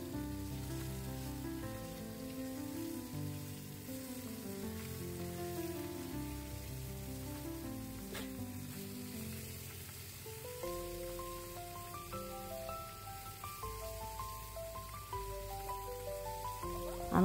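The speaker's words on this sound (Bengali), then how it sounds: "এখন আমার তেল গরম হয়ে গেছে, আমি এখন মাছগুলো দিয়ে দিব। মাছগুলোকে একটু লাল করে ভেজে নিব।" Marinated fish fries in hot oil over high heat, making a continuous crackling sizzle like rain, which plays steadily beneath louder background music.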